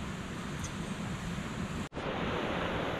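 A creek in the Tasmanian wilderness, swollen after rising overnight, rushes in a steady, loud, broadband roar that runs the whole time apart from one very brief dropout.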